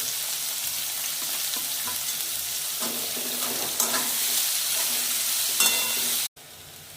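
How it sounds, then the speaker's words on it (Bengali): Chopped onion frying in oil seasoned with asafoetida gives a loud, continuous sizzle close by, with occasional stirring scrapes. The sizzle cuts out briefly near the end, and there is no talking. "এতে আমি কোচানো পেঁয়াজটা দিয়ে দেবো"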